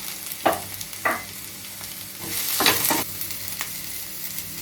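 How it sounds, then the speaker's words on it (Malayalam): Curry leaves and finely chopped green chillies hit hot oil for tomato rice, giving a bright crackling sizzle with several sharp spits and stirring scrapes, loud and close with no talk. "കറിവേപ്പില ഇട്ട് കൊടുക്കാം. 2 പച്ചമുളക് ചെറുതായിട്ട് അരിഞ്ഞത് ഇട്ട് കൊടുക്കാം."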